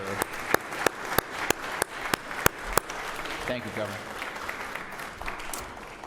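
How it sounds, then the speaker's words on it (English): Sharp, evenly spaced claps ring out prominently over applause in the Georgia Senate chamber, which carries on as a person briefly speaks. "Please give them a round of applause."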